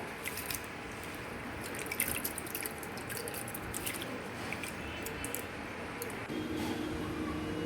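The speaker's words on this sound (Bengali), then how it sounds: "এই চালটাকে ভালোভাবে ধুয়ে নিতে হবে" Rice being rinsed by hand in water in a kitchen pot before cooking pulao, with steady close dripping, trickling and soft squishing of wet grains throughout and no talking.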